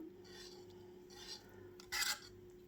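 A spoon stirring a hot pudding mixture as butter melts into it, soft scraping and rasping strokes in a pan, quiet and close, with one brief louder scrape near the end.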